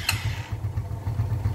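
Motorcycle engine idling with a low, steady clattering throb, close and fairly loud, preceded by a brief sharp click, with no talk over it.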